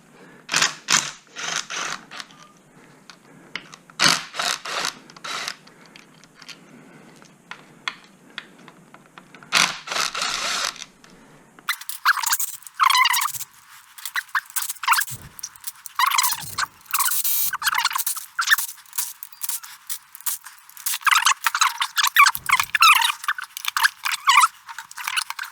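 On a Kawasaki H2 supercharger, small 5 and 6 millimeter hex-head bolts and brackets come off with close, uneven bursts of ratcheting, scraping and clicking metal, some clusters rapid, others spaced with short pauses, and no talk.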